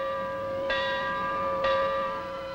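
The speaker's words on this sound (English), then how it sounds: "A gong that sounds a warning." A warning gong, a Coast Guard signal, rings two resonant metallic strikes about a second apart, each leaving a long, sustained ringing tone, fairly loud and alone.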